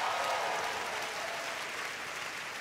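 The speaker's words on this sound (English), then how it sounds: "Round of applause, everybody." A comedy club audience breaks into dense, continuous applause, a full wash of many hands clapping at once that fades slightly, with no voices.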